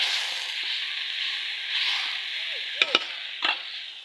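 Bay leaf, cinnamon and cardamom frying in a pan of oil, giving a steady hissing sizzle with a few brief clinks and scrapes near the end.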